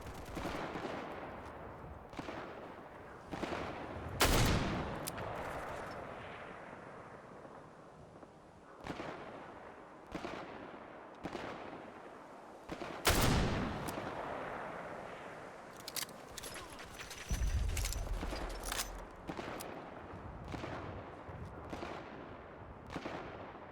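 Gunfire from a gun in Fallout 4 with a Tarkov mod: sharp single shots ring out one at a time at irregular intervals, loud and close, with quieter stretches of game ambience between them and no talk.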